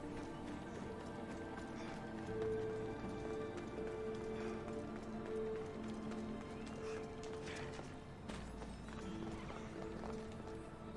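Horse hooves clip-clop steadily with an occasional whinny in Assassin's Creed Odyssey, set against a constant background music bed.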